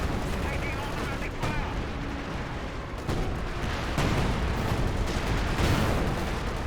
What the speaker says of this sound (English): Six barrage nails the infantry quite a bit there.